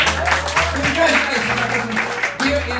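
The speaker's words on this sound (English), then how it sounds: "Give him one more round of applause." A dinner theater audience claps under a sustained musical hum, the applause steady and moderately loud throughout.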